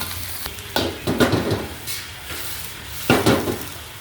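Mixed fried rice is stir-fried in a wok, the rice broken into separate grains, with a steady sizzle and sharp clanks and scrapes of a spatula against the pan at irregular intervals.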